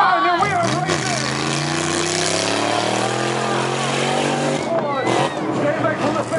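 Ford and Holden V8 Super Ute race cars roar off the start at an agricultural show track, engines rising and sweeping past loudly with crowd noise and an announcer talking over them.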